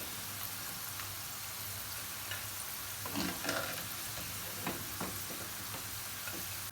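Eggplant frying in hot oil gives a steady, soft, crackling sizzle with a few brief louder pops and spatters, at low volume with no voices.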